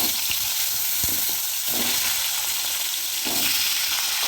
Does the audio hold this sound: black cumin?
yes